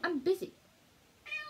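A short human vocal sound comes first, then after a pause a house cat gives one clear, close meow at the end.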